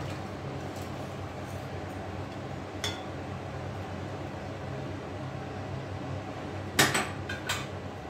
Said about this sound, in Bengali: এবার কড়াইটা আবার ঢাকা দিয়ে রাখলাম।